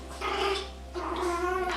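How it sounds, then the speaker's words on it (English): Dogs indoors let out two drawn-out, close whining growls, loud and agitated, with no talking over them. "Sorry, my dogs are being insane right now."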